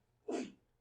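A single short sneeze from a person in a lecture room, faint and somewhat distant, over quiet room tone.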